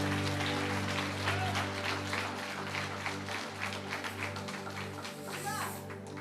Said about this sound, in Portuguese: Pode aplaudir direito, gente.